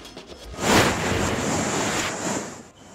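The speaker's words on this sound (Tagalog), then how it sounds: "Rumagasa ang tubig mula sa bahagi ng bundok na yan sa barangay Lintangan sa Sibuco, Zamboanga del Norte." Floodwater rushes down a mountainside in a village in Sibuco, Zamboanga del Norte, a loud, steady roaring wash with gusty wind-like noise throughout, no voices.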